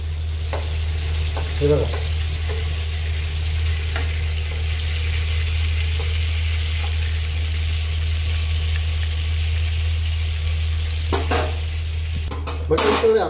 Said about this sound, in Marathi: साधारण मोठे 4 चमचे आपण तेल टाकलं, त्यात बटर टाकून घेतलं. आता बटर चांगलं वितळून द्यायचं आहे.